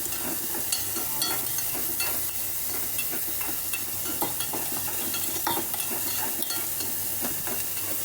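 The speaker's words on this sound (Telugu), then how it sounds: "మంచిగా ఫ్రై అవుతుంది అన్నమాట ఆలు ఆనియన్స్" Potato and onion stuffing fries and sizzles in a pan, making a steady close hiss with repeated scraping and stirring clicks throughout and no talk.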